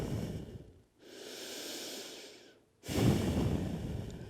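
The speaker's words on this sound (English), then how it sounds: "use this as a way to calm down the breathing" Calm, steady breathing during a yoga pigeon pose in a power yoga flow, with two slow, close breath cycles, the second exhale louder and rougher, alone without talk.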